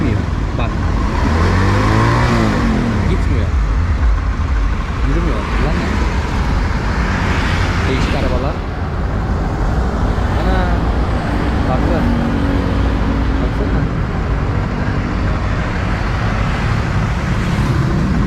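An engine roars steadily and loudly throughout as the throttle is held open, with voices talking over the continuous rumble.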